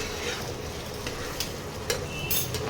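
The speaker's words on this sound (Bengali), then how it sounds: "এটাকে মিশিয়ে নিয়ে এবারে নামিয়ে দেবো।" Egg curry with onion and garlic is stirred in a sizzling pan, a close frying hiss broken by a few sharp scrapes of the spoon against the metal.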